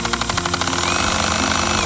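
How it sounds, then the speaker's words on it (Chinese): A Bosch GSB120-LI cordless hammer drill, its torque clutch set to 1, slips after driving a screw fully home. It makes a loud, rapid ratcheting clatter that blurs into a continuous buzzing rattle. "它锁到底之后，它遇到比较大的扭力之后，它会跳脱，用来保护这颗螺丝"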